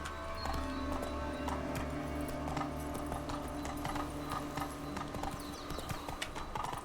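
Horse hooves clip-clop at a steady walking pace in a video game, a continuous run of close, even hoofbeats over a low ambient background, with no talking.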